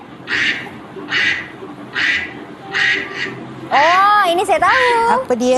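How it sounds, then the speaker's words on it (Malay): A duck quacks about five times in a steady, evenly spaced series of loud nasal calls, followed by a person talking. "Okey, ini bunyi itik."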